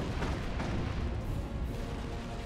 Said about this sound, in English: More stick bombs going in.